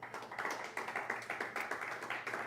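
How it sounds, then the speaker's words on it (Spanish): Congregation clapping together in a church service, a steady rhythmic run of claps at a moderate level with no talk over it. "Vamos a dar un aplauso fuerte al Señor."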